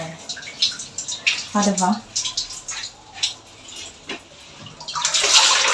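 Water runs from a tap into a large bucket in a home bathroom, a steady splashing gush with some dripping that swells louder toward the end, and a voice speaks briefly over it.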